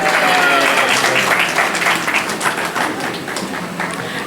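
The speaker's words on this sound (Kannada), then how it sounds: "ಚಪ್ಪಾಳೆ" Applause from a crowd, a dense steady patter of many hands clapping throughout, loud at first and easing slightly toward the end.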